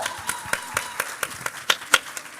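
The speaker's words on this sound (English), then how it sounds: "Please give a round of applause to Cheryl Solomon" Separate claps ring out at a Multiple Myeloma Connect gathering in Houston as the audience greets Cheryl Solomon, a sparse, uneven round of individual hand strikes rather than a full roar, fairly close.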